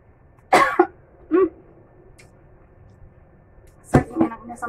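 Someone eating crispy fried fish coughs, with a short burst of harsh coughs up close, a pause, then another cough and throat clearing in a quiet room.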